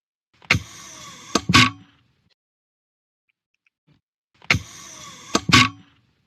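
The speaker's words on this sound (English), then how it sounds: "This is the sound of someone who is adjusting an office chair." Two identical bursts of mechanical creaking and clicking from an office chair being adjusted, lever and seat shifting, separated by a few seconds of silence.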